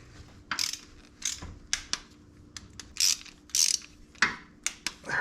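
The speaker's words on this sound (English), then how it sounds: "Then I just gotta torque all those down." Torquing down bolts on timing chain parts of an Ecotec engine, a ratchet wrench clicking in short bursts with metallic clinks between, close by and with no talk.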